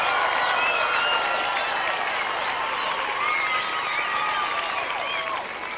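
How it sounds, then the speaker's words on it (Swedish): Sustained audience applause at Allsång på Skansen, the outdoor sing-along show in Stockholm, with a large crowd clapping loudly and steadily from start to finish before it begins to fade at the very end. "Jag ger honom en applåd"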